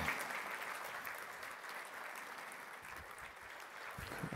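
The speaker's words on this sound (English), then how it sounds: "A big round of applause for" Sustained audience applause for a speaker at a talk on ocean plastic, even, dense clapping heard at a moderate distance and somewhat faint, with no talking over it.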